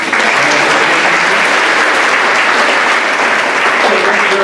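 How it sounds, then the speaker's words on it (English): Audience at a festival event gives a round of applause, loud, dense and sustained clapping from a crowd filling the whole few seconds. "Can we get another round of applause?"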